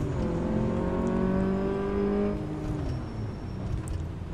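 A car slowing under braking in Car Mechanic Simulator 2014, its steady engine drone falling in pitch as it decelerates, loud and alone.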